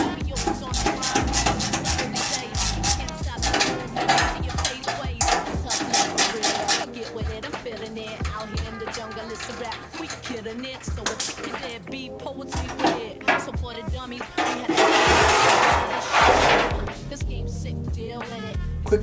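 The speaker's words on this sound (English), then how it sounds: "I'm gonna take out this plate real quick" Underbody plate coming off a Nissan 350Z with a radiator leak: a busy run of rapid metallic clicks, ratchet and tool rattles, and clanks close by, with a louder burst of clattering near the end and no speech.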